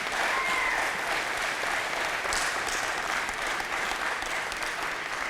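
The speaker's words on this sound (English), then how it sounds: "could you give a round of applause to Ryan's mother, Deborah Mango" A large audience at a school athletic hall of fame ceremony applauds in a dense, steady round of clapping that stays loud and even for several seconds, with no speech over it.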